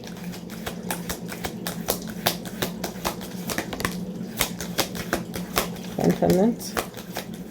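Tarot cards shuffled and drawn, making a steady run of crisp tapping and riffling clicks close by while someone talks over them.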